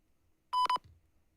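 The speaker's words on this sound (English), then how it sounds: "At the tone, please record your message." An automated voicemail tone rings out alone after a recorded phone greeting: a single short, loud electronic beep lasting about a quarter second, with a faint blip just after.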